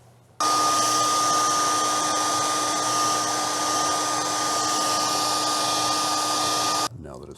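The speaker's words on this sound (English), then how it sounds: "we're going to use a hair dryer instead of a heat gun" Hair dryer blowing steadily on a stencil over a fishing lure, a loud constant whirring hum with a fixed whine that switches on abruptly and cuts off near the end.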